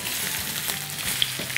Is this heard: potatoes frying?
yes